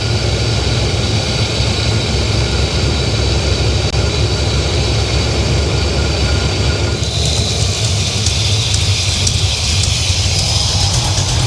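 A car engine idles steadily in a noisy workshop during a timing light check with the vacuum advance removed. The drone is loud, even and continuous throughout.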